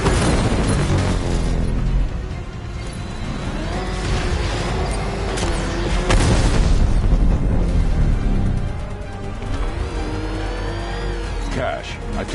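A militia APC blows up in Batman Arkham Knight, heavy booming blasts mixed with roaring vehicle engine and revving, loud and continuous, with voices talking over the action.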